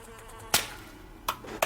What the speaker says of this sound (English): At least to stop the damn fly buzzing.